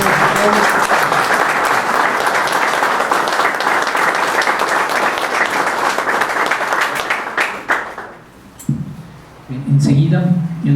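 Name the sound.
audience applause after a presentation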